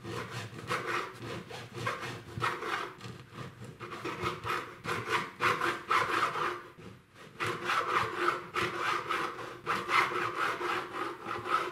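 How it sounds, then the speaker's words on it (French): A knife saws back and forth through a loaf of organic bread, a steady rhythmic rasping of many close strokes with a short pause midway, no talk. "On va en découper quelques fines tranches de pain."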